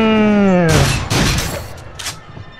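Shotgun blasts in the VR horror shooter Until Dawn: Rush of Blood, several loud broadband bangs in quick succession following a falling tonal game sound.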